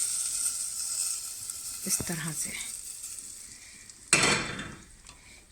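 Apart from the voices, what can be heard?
hot oil tempering with kasuri methi and chili poured onto dal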